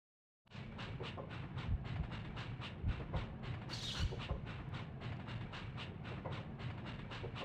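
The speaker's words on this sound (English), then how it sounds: "Up we go on the train." A steady, rhythmic clickety-clack of a train ride in the video game Breath of Fire 3, starting abruptly and rolling on evenly at moderate volume, with a brief hiss partway through.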